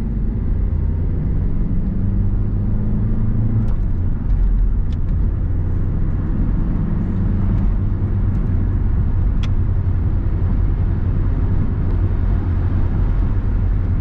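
A 1992 Renault 21 Manager turbo diesel car picks up speed, producing a steady, loud low-pitched engine rumble that holds for the whole stretch, with a few faint clicks and ticks on top.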